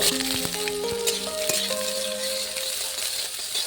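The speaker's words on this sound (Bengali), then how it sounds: "তেল গরম হয়ে গেছে, এবার রাঁধুনি দিয়ে দেবো কয়েকটা। এবার শাপলাটা দিয়ে দেবো" Water lily stems and radhuni spice seeds drop into hot oil in a pan for a fish curry, giving a loud, steady sizzle with crackling bursts and a few clinks of stirring throughout.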